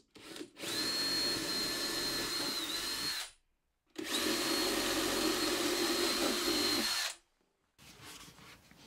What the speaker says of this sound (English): I'm going to drill some pilot holes through the front